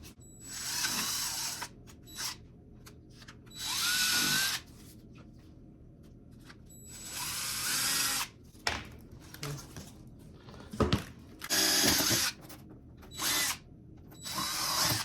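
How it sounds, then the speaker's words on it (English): A power drill whirs in several short bursts, drilling holes in ABS plastic, spinning up and stopping repeatedly with quiet pauses and small clicks between the runs. "we're just gonna go ahead and drill these holes."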